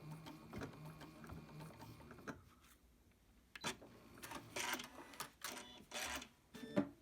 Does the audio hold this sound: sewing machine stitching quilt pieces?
yes